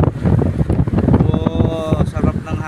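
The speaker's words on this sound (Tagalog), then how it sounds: "Sarap ng hangin, malamig, no? Lakas ng hangin" Strong, cool wind roars steadily across the microphone in a continuous rumbling wash, with a voice talking over it.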